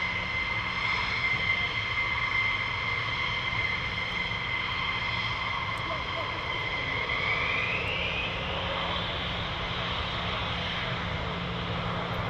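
A military jet aircraft flies near RAF Lakenheath, a loud continuous roar with a high whining tone that bends in pitch as it passes, steady and unbroken throughout with no voices.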